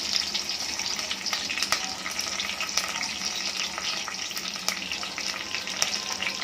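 Curry leaves and cumin sizzle in hot oil as a tempering for toor dal, giving a steady, close crackle that fills the whole stretch with no talking.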